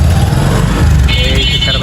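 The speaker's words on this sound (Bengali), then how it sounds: "আমাদের তুষার ভাই বাইক নিয়ে যাবে একটা রাউন্ড মারতে।" A five-month-old motorbike rumbles and pulls away close by, its engine drone loud and brief beneath people talking.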